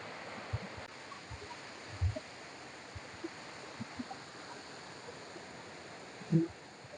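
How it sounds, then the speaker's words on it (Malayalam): A wild forest stream near Arimali waterfall flows with a steady, soft broadband rush, broken by a few low thumps and knocks nearby. "തീർത്തും വന്യമായ ഒരു അന്തരീക്ഷം നല്ല രീതിയിൽ വെള്ളം ഒഴുകുന്നു"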